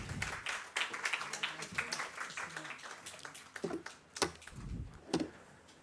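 An audience at a women-in-STEM conference session applauds, a thin, scattered patter of claps from a modest crowd, fairly quiet and uneven, with irregular louder individual claps and some faint background voices.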